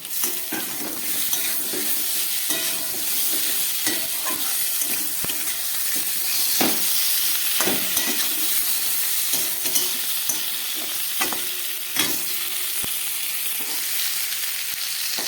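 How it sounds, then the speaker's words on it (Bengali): Spices and a few tomato pieces frying for an everyday fish curry, a steady close sizzle with scattered stirring clicks and scrapes of a spoon in the pan, no talking. "আবার একটু ভেজে নিচ্ছি। দিয়ে দিচ্ছি কয়েক টুকরো টমেটো।"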